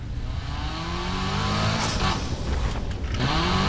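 Nissan S15 engine and exhaust in the racing game NFS Heat, a loud steady drone with rising pitch as revs climb, a brief lift around the middle, then building again.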